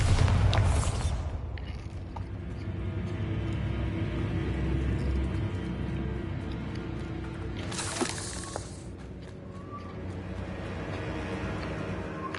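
A Bombarda explosion spell in Hogwarts Legacy bursts loudly at the start, and a second blast comes several seconds later, with a low rumble and faint ambient game sounds in between.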